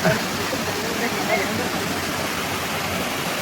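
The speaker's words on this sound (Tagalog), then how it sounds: "Ang falls na yan. Ayun, pababa siya. Babagsak doon, may pool." Timangkuyob waterfall in Tarlac pouring into a deep pool, a steady broadband rush of falling water, continuous and fairly loud.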